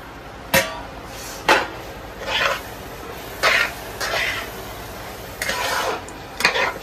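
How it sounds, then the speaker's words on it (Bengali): Semolina being stirred in a pan, a spoon scraping and knocking against the pan in irregular strokes, about seven distinct scrapes and taps, close and clear. "সুজিটা দিয়ে এবার এটাকে নাড়াচাড়া করবে"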